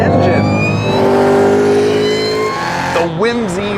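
A Cadillac CT5-V Blackwing's big engine roars loudly as it accelerates, a steady rising drone through the gears before a sharp revving warble at the end, with a voice talking over it.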